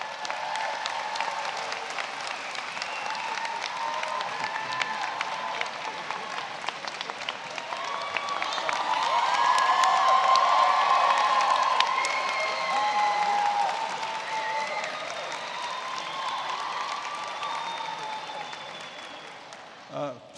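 Sustained audience applause at a law school commencement ceremony fills the hall, swelling in the middle and then tapering off, with a speaker's voice over it.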